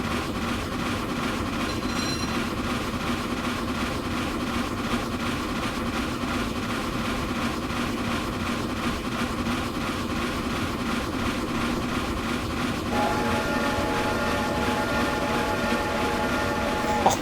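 Steam locomotive sounds from an LNER A4 Pacific sound pack in the train simulator TS Classic: a steady, continuous rumble of running gear and rail noise, with a sustained whistle-like tone entering near the end.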